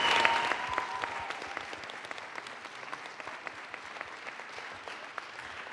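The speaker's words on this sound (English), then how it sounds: "Big round of applause." An audience claps after a presentation at a meetup, starting louder and settling into a steady patter of many individual claps that continues without voices.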